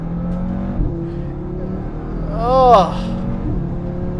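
2018 Audi RS3 five-cylinder turbo engine accelerating, a steady engine drone from inside the car that swells into a rising rev with a brief whoosh before settling, with a short exclamation from a voice.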